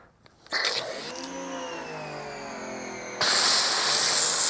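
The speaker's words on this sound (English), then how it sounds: "So we'll put on our foam cannon. This is Carpro Reset." CarPro Reset foam sprayed from a foam cannon onto a car in direct sun: a faint tonal whine gives way to a sudden loud, steady hiss of spraying that runs to the end.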